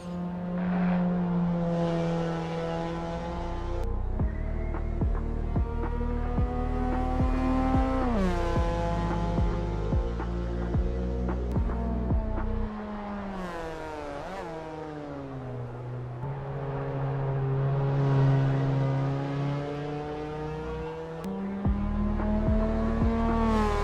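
Race car driving in the video game Assetto Corsa EVO: a loud engine revs up and down through repeated gear shifts, rising pitch sweeps broken by sharp drops, continuous and close with no talk.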